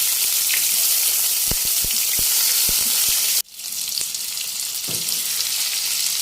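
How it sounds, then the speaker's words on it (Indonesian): Loud, steady sizzling of tomatoes frying in a hot pan, with a few clacks of a utensil stirring, then the sizzle drops and resumes more softly. "Selanjutnya saya goreng tomatnya juga sampai layu ya teman-teman."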